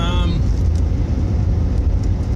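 A noisy car drives past in Times Square, New York City, a loud, steady roar of engine and road noise across the whole stretch, with street bustle and voices mixed underneath.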